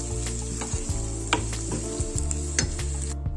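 Ground garam masala and cardamom powder heat in oil with a steady close sizzle for a Kaada biriyani, while a spoon scrapes and stirs in a few distinct strokes and the pan goes quiet at the very end.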